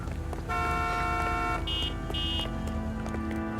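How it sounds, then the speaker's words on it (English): A car horn honks in the L.A. Noire video game, a steady harmonic blare lasting about a second, followed by two shorter, higher toots over a continuous street and engine hum. "Why are you honking at me?"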